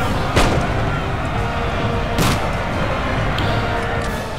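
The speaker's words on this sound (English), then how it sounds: "if they have loaded muskets, they actually fire them" Musket volleys crack out in Napoleon: Total War, two sharp broadband bursts about two seconds apart, loud over a steady rumbling battlefield din.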